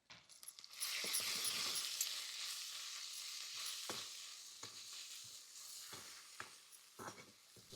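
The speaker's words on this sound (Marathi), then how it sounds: "आता व्यवस्थित परतून घ्यायचं" Green chili, crushed peanut powder, salt and turmeric sauté in a pan, a soft continuous sizzle broken by a few sharp scrapes and taps of a stirring spoon against the pan.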